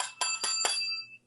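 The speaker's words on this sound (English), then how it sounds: "Ring the bell." A bell rings three times in quick succession, bright metallic dings that overlap and ring on briefly before fading, close and fairly loud.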